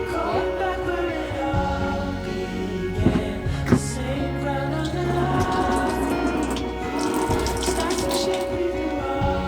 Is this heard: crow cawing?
no